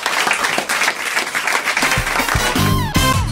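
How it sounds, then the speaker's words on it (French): A studio audience applauds on a French talk show with loud, steady clapping. A voice and a musical tone come through near the end. "on vous applaudit, on vous remercie l'un et l'autre"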